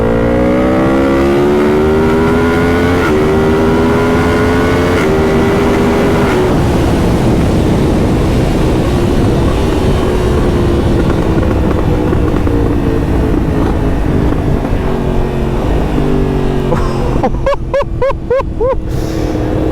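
A Yamaha MT-10 gen 2 motorcycle with an Akrapovic exhaust accelerates hard through several gears, its loud, close engine note climbing repeatedly with shifts and then settling into a steady roar, with no talking.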